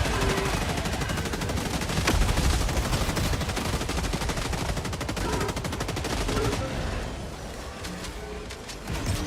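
Heavy machine gun fire in a video game: continuous, loud, rapid automatic bursts running nearly the whole time, dense and close, easing slightly toward the end.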